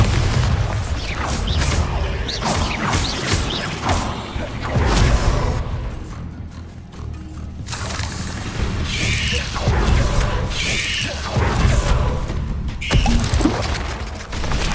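Explosive spell blasts in the Hogwarts Legacy video game, several loud booming bursts recurring through a busy combat mix of clanks, whooshes and other effects, with occasional voices.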